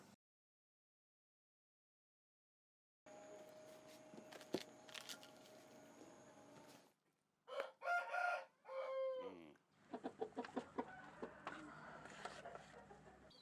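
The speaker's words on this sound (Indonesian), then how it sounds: "Lagi ngasih makan ayam?" Rooster crowing and hens clucking at feeding time in a village yard, several loud crows and bursts of clucking after a quiet start, with busy background noise throughout.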